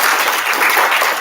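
Dense, loud applause from a youth group audience after a presentation fills the whole short moment without a break.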